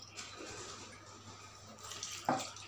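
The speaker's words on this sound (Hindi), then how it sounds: "1/2 कटोरी इसमें और पानी डाल दे रही हूँ।" Water is poured from a bowl into besan (gram flour) batter, a steady faint trickle with a brief louder splash near the end, in a quiet kitchen.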